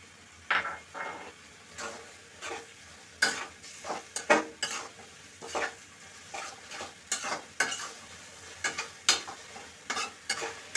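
A pan of Chinese-style mixed vegetables with dissolved cornflour is stirred with a utensil, giving repeated scraping and clinking strokes in an uneven rhythm over a faint sizzle, close and fairly quiet.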